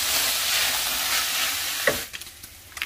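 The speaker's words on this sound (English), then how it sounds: "So I'm gonna start sauteing the onions along with the beef and just keep going." Beef and onions sauté in rendered fat in a single pan, a loud, steady close sizzle that suddenly drops away into a few scattered scrapes and taps of stirring.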